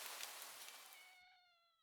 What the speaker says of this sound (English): I just hear the cat in the background going meow.